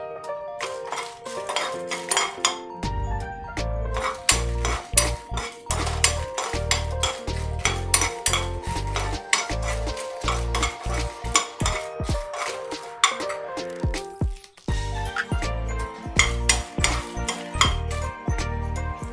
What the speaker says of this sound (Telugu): ఇప్పుడు ఎండుమిరపకాయలు వేసి వేయించుకోవాలి